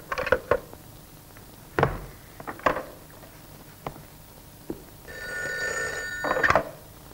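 An old telephone bell rings in short bursts, fairly clear against a quiet room, with soft clatter and a few knocks between the rings.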